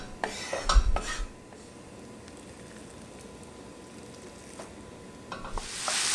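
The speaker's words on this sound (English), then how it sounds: "I'm going to brown the sausage now with a little olive oil" Sausage browning in olive oil in a pan, with a soft steady sizzle under clattering stirring and utensil scrapes near the start, quieter frying in the middle, and more scraping toward the end.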